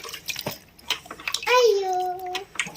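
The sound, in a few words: water poured while bathing a small child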